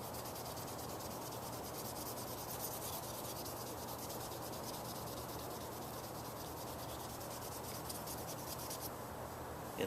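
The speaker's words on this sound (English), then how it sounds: "here we are after sanding it up to 400 grit wet" Wet sanding a cured CA superglue finish on a slingshot up to 400 grit: a steady, continuous close-up rasping scrub that holds evenly throughout with no pauses.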